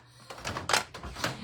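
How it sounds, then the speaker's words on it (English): Wooden floorboards in a house creak and thunk under someone's footsteps, a few soft, brief groans spaced out over about a second, quiet and close. "Our floors creak."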